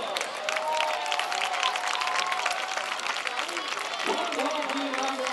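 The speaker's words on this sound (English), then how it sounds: "Let's give these folks a round of applause." Applause from the stands at a high school football homecoming game, Salem at Clarke Central, a steady wash of clapping and crowd noise lasting throughout, with an announcer's voice heard over it.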